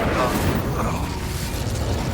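Confringo blasting spell going off in a Hogwarts Legacy duel, a dense, continuous rumbling burst with mechanical clatter that stays loud and steady throughout, no voices on top.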